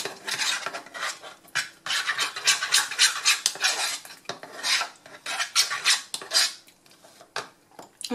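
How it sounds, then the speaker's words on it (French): Hamburger sauce being mixed in a bowl, continuous close scraping and clinking of a utensil against the bowl in irregular quick strokes, fading briefly near the end; no talking. "Ensuite je vais mélanger."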